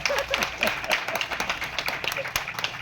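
Audience in a hall clapping during a Tamil literary speech by poet Vairamuthu, a dense patter of hands with a voice talking over it throughout.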